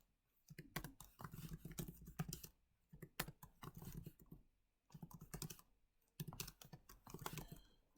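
Typing on a computer keyboard, rapid close clicking keystrokes in several bursts separated by short pauses, quiet and steady with no talk.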